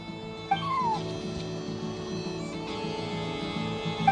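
A cat in the video game Genshin Impact lets out a rising, squeaky meow near the start and a second short mew at the end, set over a soft, steady musical background with no talking.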